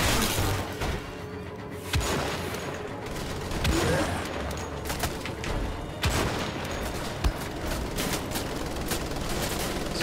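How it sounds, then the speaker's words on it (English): Rapid gunfire in the video game Wolfenstein: The Old Blood, dense volleys of shots and booming impacts layered over each other, loud and continuous with occasional sharper cracks. "Suppressing fire."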